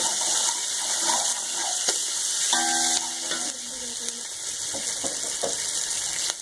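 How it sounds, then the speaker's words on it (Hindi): Water is poured into a pot of frying spices such as cumin and cinnamon for chicken yakhni pulao, producing a loud hiss and bubbling sizzle that gradually settles into steady simmering, close to the listener. "इसमें हम पानी डाल देंगे।"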